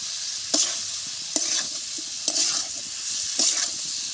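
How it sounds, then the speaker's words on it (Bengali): Cauliflower and potatoes sauté in a pan with a steady, close sizzle, broken by four sharp scrapes of a spoon stirring them. "ফুলকপি আর আলুগুলো ভালো করে কষানো হয়ে গেছে"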